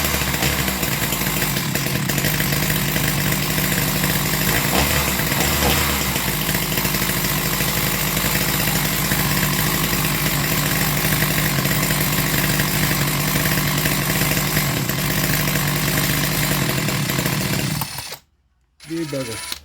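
A zombie slayer chainsaw engine runs steadily for nearly twenty seconds, a loud, close, continuous buzzing drone that cuts out abruptly near the end before briefly catching again.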